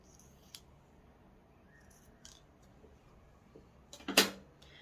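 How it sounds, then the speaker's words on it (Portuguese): Scissors snip through fabric bias tape in a quiet room, a few faint clicks followed by one crisp, louder cut near the end. "eu vou cortar aqui e alinhar ele direitinho"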